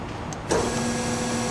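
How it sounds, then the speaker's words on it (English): The hydraulic pump of an ACER Supra-1640PD surface grinder starts with a click and settles into a steady, close electric hum with a faint constant whine. "Turn on hydraulic pump."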